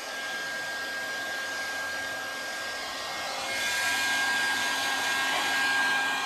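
A hair dryer runs continuously, a steady airy whoosh with a faint whine that grows slightly louder and fuller midway, close by with no voices.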